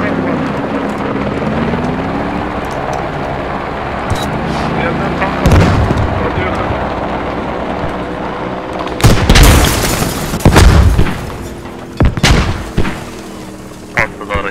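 Explosions in the military shooter game Squad, a series of sharp booms and blasts over a steady rumbling battlefield din, the loudest bursts clustering in the second half.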